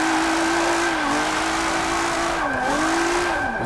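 Sustained engine drone with a steady high whine from a car drifting after a clutch kick in Forza 7, a G35 drift build on Suzuka, loud and continuous with pitch dips as the revs fall and recover.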